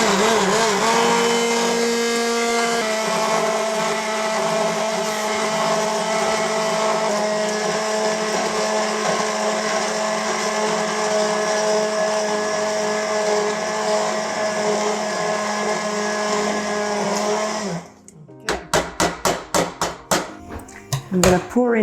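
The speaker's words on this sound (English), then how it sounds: "I'm going to use my hand blender. I'm going to blend it smooth" A hand blender purees curry paste for a spicy egg curry, giving a loud, steady motor whir for about eighteen seconds before cutting off into a few clattering knocks.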